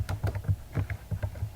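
Rapid, close clicks of fingers typing on a computer keyboard, a quick irregular run of keystrokes in a quiet room.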